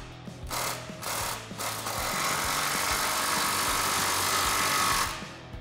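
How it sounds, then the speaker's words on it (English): A power ratchet with a 15 mm socket tightening exhaust clamps on a 2016-2023 Camaro SS: two short bursts of rattling ratchet, then one long continuous buzzing run of about three seconds, loud and close. "grab our clamps and slide those into position and tighten those down with our 15"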